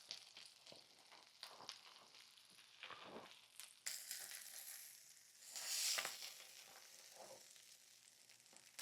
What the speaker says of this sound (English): Toast your sandwich on both sides over medium-low.